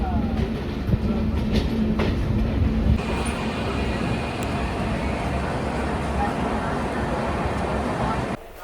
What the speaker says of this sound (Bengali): দুটো ট্রেন সমান গতিতে পার করছে দমদম জংশন রেলওয়ে স্টেশন